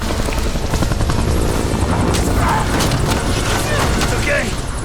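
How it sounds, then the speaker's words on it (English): A helicopter in the Black Ops 6 video game thuds with loud, continuous rotor chop close by, with a voice talking over it throughout. "Jane absolutely tanks a nasty landing and escapes by performing a Lara Croft jump into the helicopter."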